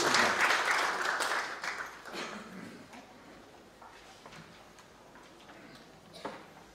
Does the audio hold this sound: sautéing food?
no